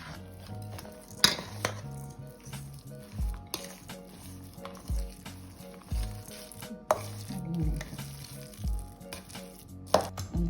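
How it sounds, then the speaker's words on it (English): Greens chopped on a board in a kitchen while preparing banana kebabs, a series of irregular knife taps and clatter close by, mixed with utensil clinks and a faint background sizzle. "I'm chopping the greens."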